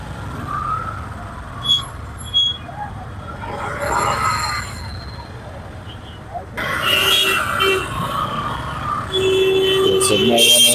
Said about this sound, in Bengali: যেহেতু গাড়ি ঘোড়াগুলো আস্তে আস্তে চলা শুরু করেছে।